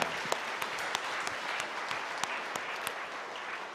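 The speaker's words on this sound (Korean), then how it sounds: "하나님께 영광의 박수를 돌리시겠습니다" A congregation claps during a Sunday church service, a dense, steady round of applause from a large room with a few sharp individual claps standing out, moderately loud and without voices.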